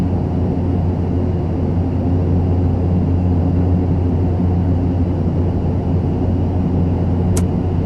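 Cockpit drone of a simulated Carenado A42 500 twin turboprop in Prepar3D on landing approach: a steady, loud, even engine hum with low tones that hardly change throughout, plus one faint brief high blip near the end.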